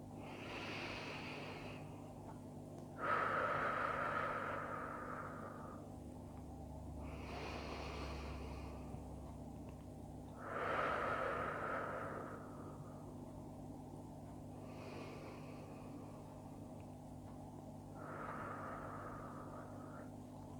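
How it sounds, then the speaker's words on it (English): Slow, relaxed breathing in and out during a guided grounding exercise, several soft, airy inhales and exhales spaced a few seconds apart, close to the microphone over a low steady hum, with no talking. "I invite you just to take a few breaths in and out"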